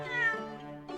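A single cat's meow rings out in the Ace Attorney Chronicles game, one short bright mew over a soft musical tone, with the start of another cry at the very end.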